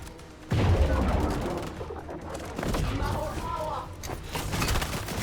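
Bursts of rapid gunfire from the video game Fortnite Battle Royale crackle loudly after a short quiet start, continuing in waves for several seconds.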